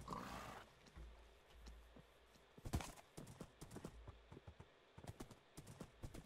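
Horse hooves clip-clop in Minecraft, a run of short, evenly spaced knocks at moderate loudness with a few louder game sounds mixed in, heard alone without talk.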